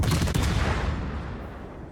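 Incoming enemy naval gunfire in a video game, a dense cluster of loud booming shots and impacts at the start that trails off into a fading rumble.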